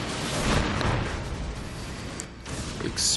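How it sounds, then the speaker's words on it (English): A broad, loud blast of noise from an explosion in the video game The Bouncer, rumbling continuously for about three seconds with a swell near the start and another burst at the end. "Explosion."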